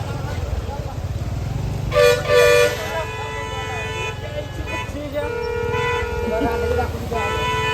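Car horns honk repeatedly in a roadside traffic jam, several sustained and overlapping tones from nearby vehicles sounding one after another, with people talking underneath.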